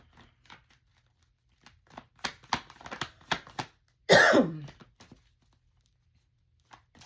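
A single harsh burst, likely a cough, rings out loud and close, with a few faint clicks and rustles before and after it.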